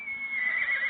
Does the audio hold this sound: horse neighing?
yes